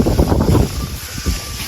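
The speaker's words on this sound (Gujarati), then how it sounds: "એ વંટોળ આવ્યું, પૂળા ઉડી ગયા છે, જોઈ લો." Whirlwind gusts buffet the microphone as bundles of straw are swept high into the air, heard as loud, rumbling low-pitched roars and blasts that ease off briefly, then return.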